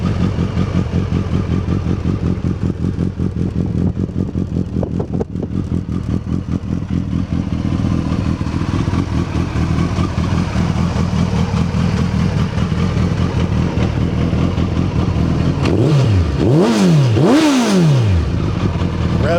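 A Suzuki Hayabusa GSX1300R sportbike with a Yoshimura exhaust idles loudly and steadily up close, then is sharply revved two or three times near the end, each rev rising and falling quickly.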